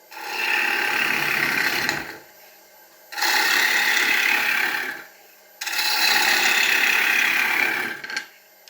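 Wood lathe turning an ash bowl, a steady scraping, rasping cut in three sustained passes of about two seconds each, with brief quieter pauses between them, close and fairly loud with no talking.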